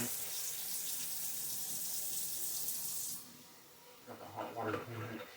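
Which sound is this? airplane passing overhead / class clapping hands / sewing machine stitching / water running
water running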